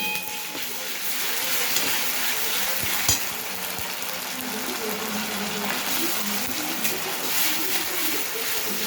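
Ginger-garlic paste fries in hot oil with browned onions in a pan for a fish curry, giving a continuous, close crackling sizzle with occasional stirring scrapes throughout.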